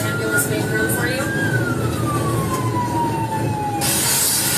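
An ambulance siren wails as it passes on a road, a single long tone sweeping slowly downward over a loud, constant rumble of traffic or engine noise, ending in a sudden burst of broadband noise.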